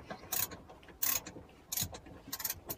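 A screwdriver bit turns a screw underneath an engine, giving four short, faint clicking ratchet-like bursts spaced roughly evenly, close up with no talking.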